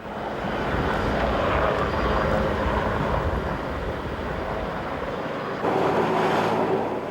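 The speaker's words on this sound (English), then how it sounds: "Others just revelled in the aerobatic power of their flying machines." An aerobatic aircraft roars overhead at a Royal Australian Navy celebration, a loud, steady engine drone that holds throughout and swells slightly near the end.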